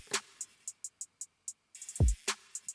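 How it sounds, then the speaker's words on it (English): Sparse electronic drum groove opening a remix, with crisp hi-hat ticks in a steady pattern, a couple of snare cracks, and one deep booming kick hit partway through, played alone with no voices. "This is the intro drum groove."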